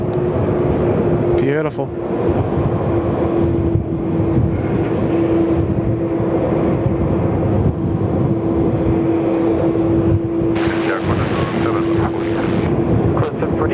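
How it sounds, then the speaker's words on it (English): A SriLankan Airlines airliner takes off from Sydney Airport, its loud, steady engine roar and whine running continuously through the clip, with a brief voice speaking over it. "Lovely long takeoff roll there from Sri Lankan."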